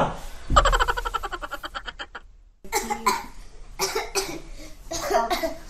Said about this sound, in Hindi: खांसी कैसे हो रही है तुम्हें